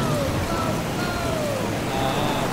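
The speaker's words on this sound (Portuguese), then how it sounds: "Interlagos com chuva? Que isso, meu?" Steady rain falls on the Interlagos circuit in the Touring Kart racing game, a dense, even hiss that runs at a loud level for the whole stretch.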